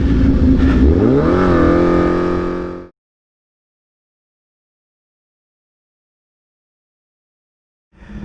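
Suzuki Hayabusa drag bike revving loudly on the two-step at a dragway, engine note climbing then cutting off abruptly, followed by silence and the start of another loud engine burst at the end.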